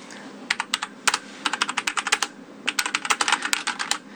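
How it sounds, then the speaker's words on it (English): Rapid clicky keystrokes from a Penclic MK1 mechanical keyboard, typed in two bursts with a short pause between, close and crisp with no voices. "you hear that sound that the keyboard's making? Those are the mechanical keys."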